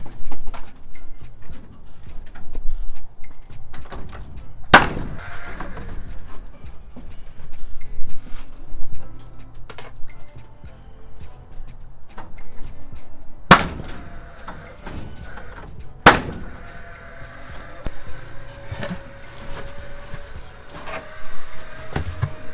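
A Paslode cordless gas nail gun drives nails into the ends of a Harbor Freight greenhouse frame, giving a few sharp, loud cracks spaced several seconds apart over faint background noise.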